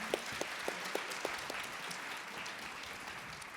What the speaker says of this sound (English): I think we can give our panelists a round of applause.